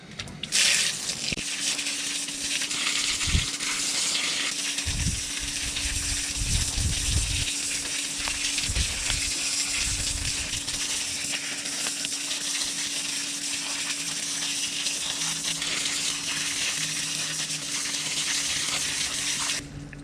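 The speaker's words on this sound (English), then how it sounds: "now we're going to give our turmeric a good hose to try to leave as much of this soil as we can in the garden" Garden hose spraying water over freshly dug turmeric roots to wash off soil, a steady loud hiss and gush running continuously for twenty seconds, with occasional dull thumps and splashes of the roots being handled.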